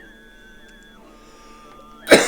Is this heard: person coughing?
yes